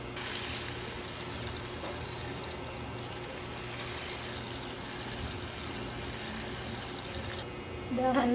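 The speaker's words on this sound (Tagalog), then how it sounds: "Ibuhos ang bubble booster." Bubble booster poured into a container holding 14 liters of water for homemade dishwashing liquid, a steady, even pouring stream running for several seconds before a louder splash near the end.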